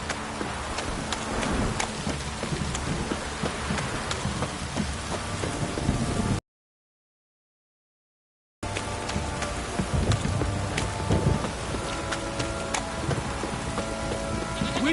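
Heavy rain pouring down in The Witcher 3, a loud steady hiss of dense drops with rumbling low tones, cut by about two seconds of total silence before the downpour resumes.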